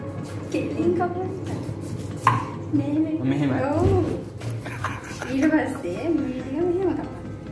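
Knife chopping through ingredients while preparing banana-leaf biryani with friends, with repeated short cutting knocks running under near-continuous conversation.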